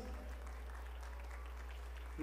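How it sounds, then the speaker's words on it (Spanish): A crowd at a quinceañera party claps steadily, a sustained round of applause under a continuous low hum, with voices mixed in. "Les damos otro fuerte aplauso, damas y caballeros."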